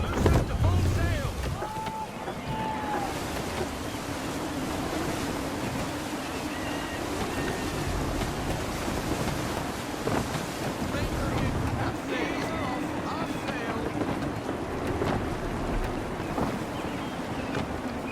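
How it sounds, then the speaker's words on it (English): Gusty wind across a sailing ship at sea in Assassin's Creed III, a continuous loud roar of wind with waves washing and creaking hull sounds, steady throughout with brief spoken lines mixed in. "Gusty winds can be difficult to manage."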